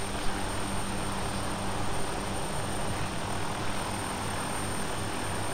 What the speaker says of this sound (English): Here's the other chopper behind us.